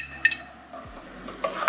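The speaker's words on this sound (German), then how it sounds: "Knoblauch wird schön angerührt. Und richtig schön scharf anbraten, damit sich der Geschmack entfalten kann." Garlic being stirred in a hot pan, with brief scraping and clinking of a utensil against the pan over a soft background sizzle.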